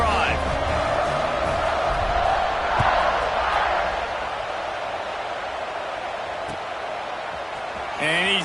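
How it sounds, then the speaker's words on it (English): A football stadium crowd at a Notre Dame versus Texas game roars steadily through a kickoff, a broad sustained wash of cheering with a few sharper shouts, fading slightly near the end. "this crowd is feeling themselves after that last drive"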